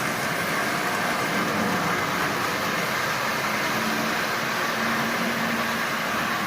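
A Marx 595 toy train with a double reduction motor runs steadily, its small motor giving a constant close mechanical whir and hum with no talk over it.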